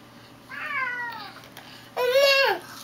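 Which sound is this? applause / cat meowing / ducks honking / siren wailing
cat meowing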